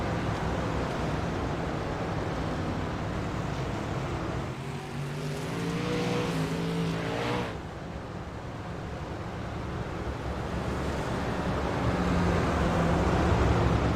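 Race car engines drone steadily in iRacing at Fairbury during a caution behind the pace truck, a broad continuous roar that swells slightly near the end, with a brief passing whine in the middle.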